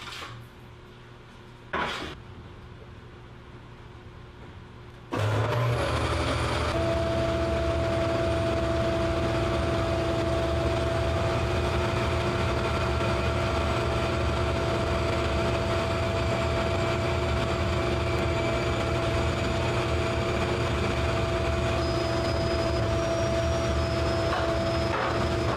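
An 8-inch jointer and a 15-inch planer machine a 13-inch wide heavy-duty hickory slab. A steady, loud machine drone with a whining hum runs without a break for most of the clip, after a short quieter lead-in with a knock.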